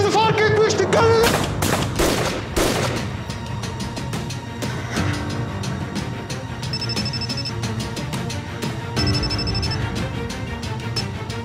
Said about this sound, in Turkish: Silah sesi mi o?